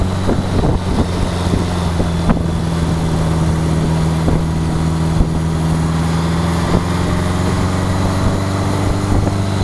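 A Honda Goldwing motorcycle running on a single carburetor cruises at slow speed, giving a steady, close, even engine drone with a constant low hum and light wind rush and no talking.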